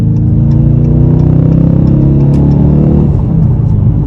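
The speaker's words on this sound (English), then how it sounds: "You get that V8 grunt too." A manual 2022 Dodge Challenger R/T V8 accelerating hard in third gear, a loud, steady low engine drone that climbs gradually in pitch, heard close from inside the car with no talk.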